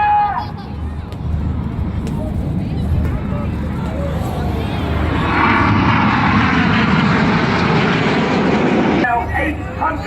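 Red Arrows jets at the Sunderland Airshow roar past overhead, a loud sustained engine rumble that swells and peaks midway before easing, while an announcer talks over a public address system.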